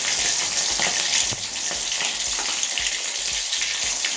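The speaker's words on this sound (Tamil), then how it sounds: "கடுகு நல்லா பொரிஞ்சு வந்து வெந்தயம் போடுறேன்." Mustard seeds and fenugreek frying in hot oil for a fish curry give a close, constant sizzle full of tiny crackles and quick pops. No one speaks.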